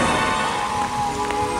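Steady rain pours down outdoors as a storm front moves in, a dense, continuous hiss of drops that is close and loud throughout, with no one talking.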